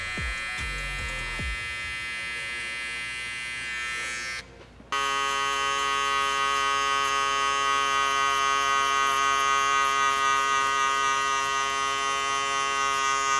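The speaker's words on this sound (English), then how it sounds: "just take out the rest of the bottom and then shave it out" An electric shaver buzzes steadily and loudly at close range while shaving hair for a low taper fade, briefly cutting out for a moment before resuming its constant whine.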